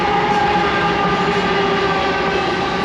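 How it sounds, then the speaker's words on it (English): A train rolling past near Lake Louise, a loud continuous rumble of wheels and cars with sustained high squeal tones, steady throughout and with no speech. "of course now the train had to go by"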